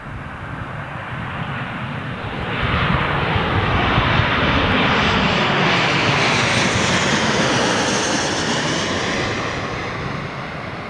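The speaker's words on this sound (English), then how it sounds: "KLM 737, catch it while you can, it's very quick." A KLM Boeing 737 airliner at London Heathrow, on runway 27L into a headwind, swells from a low rumble into a loud, full roar around three seconds in, holds it, then slowly fades.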